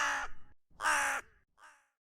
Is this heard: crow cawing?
yes